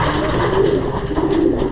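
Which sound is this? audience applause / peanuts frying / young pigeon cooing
young pigeon cooing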